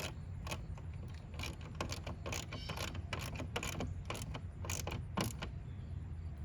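A 1/4-inch drive ratchet tightens the mirror bolts on a 2002 Pontiac Grand Am, giving quick, faint clicking bursts in an uneven rhythm over a steady low hum.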